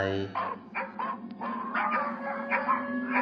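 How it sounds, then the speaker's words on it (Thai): Market dogs chasing a car bark and yip in quick, uneven bursts, with a thin, sustained howl running beneath them. "หมาทั้งหอนและเห่าวิ่งตามรถลุงพลไป"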